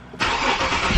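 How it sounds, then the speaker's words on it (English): A new car's engine starts with a sudden whoosh, then settles into a steady, close idle hum. "So what you want to do is obviously turn the car on."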